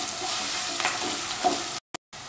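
Garlic and ginger fry with salt in a hot pan, a close steady sizzle with a few stirring scrapes, then cut off abruptly by two short gaps of silence near the end.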